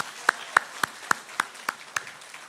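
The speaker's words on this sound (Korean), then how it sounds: "네, 축하의 박수 해주시기 바랍니다" A church congregation at a Sunday worship service claps in unison, about eight evenly spaced, crisp claps in a steady rhythm over a quiet room.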